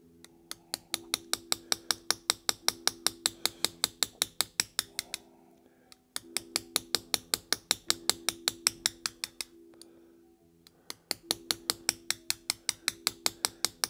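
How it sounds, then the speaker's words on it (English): Steel chisel struck repeatedly with a hammer while carving a low relief design into metal: a steady, evenly spaced series of sharp metallic taps in three runs, each separated by a short pause, close and fairly loud with no talking. "going back to the Kosho chisel"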